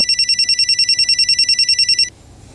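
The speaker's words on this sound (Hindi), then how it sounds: "फोन बज रहा है, फोन उठाओ।" An electronic telephone rings loudly in a rapid, even pulsing trill for about two seconds, then cuts off, leaving faint room tone in a tense crime-drama scene.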